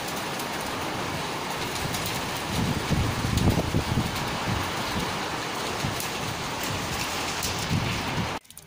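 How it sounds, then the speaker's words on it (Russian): Steady rain patters over a broad hiss, swelling midway as gusts of wind push it harder, then cuts off abruptly at the end. "Так, дождь пошел."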